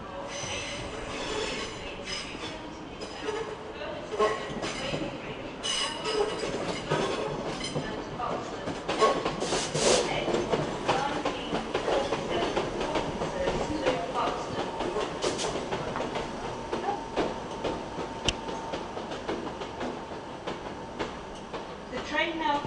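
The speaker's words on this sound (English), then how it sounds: "The train now approaching platform 13 does not stop here." Non-stopping train running through platform 13 at Manchester Piccadilly, a long steady rumble with wheel squeal and clatter building across the whole stretch, moderately distant, with a faint voice in the background.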